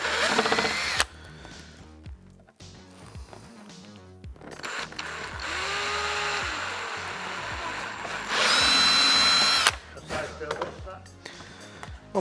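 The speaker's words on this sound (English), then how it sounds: "It's our 6mm drill bit from earlier on." A power drill fitted with a 6mm bit bores holes into plastic armour parts, giving several short whirring bursts with one loud high-pitched run near the end, between pauses where a person talks.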